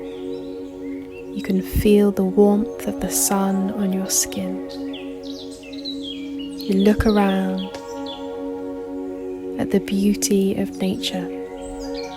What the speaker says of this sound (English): You can hear the birds singing in the treetops.